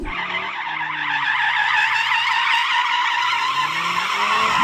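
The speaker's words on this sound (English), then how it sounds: "And this is me drifting an RS3." An Audi RS3 drifting in its drift mode, tyres skidding and squealing loudly and continuously with the engine droning underneath, close and sustained throughout with no talking.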